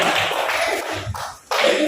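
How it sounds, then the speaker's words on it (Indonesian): A classroom of pupils claps for a classmate named Rika, a short dense spell of steady hand claps that briefly dips and then picks up again. "Tepuk tangan untuk Rika"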